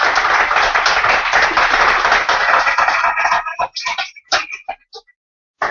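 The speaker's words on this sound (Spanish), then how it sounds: "Démosle una aplauso." A church congregation breaks into dense applause during a sermon, then thins out into a few scattered late claps before falling silent.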